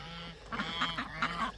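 Young ducklings about two weeks old give a quick series of soft peeping calls, close by and fairly quiet, several short chirps in an uneven run.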